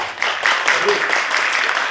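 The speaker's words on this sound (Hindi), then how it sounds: "हैप्पीली एक बहुत बड़का ताली" An audience bursts into applause during a discussion event on Mithila's economic development, a dense, steady wash of clapping that fills the whole two seconds at a fairly loud level.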